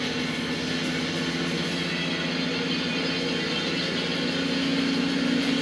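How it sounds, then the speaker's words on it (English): A car engine idles steadily in the PS2 racing game Tokyo Extreme Racer Zero, a constant low drone with a slight swell near the end and no talk over it. "Yeah, it's my meaty engine"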